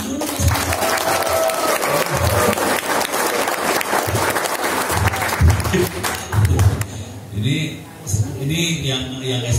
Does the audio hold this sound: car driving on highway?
no